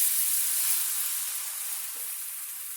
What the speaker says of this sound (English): And now we're going to add 1 cup of milk